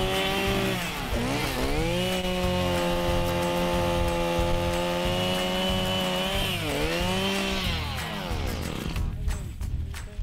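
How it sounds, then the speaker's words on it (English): Powered ice auger drilling through over a meter of solid lake ice, a loud, continuous engine whine holding steady with pitch dips as the bit bites, then easing off near the end. "he used an auger to drill through over a meter of solid ice"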